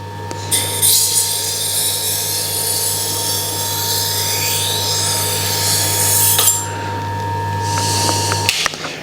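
A VG10 steel knife blade is drawn across the wheel of a Tormek T1 sharpener, making a steady hum with a continuous scraping hiss that swells and fades as the blade passes, close and alone.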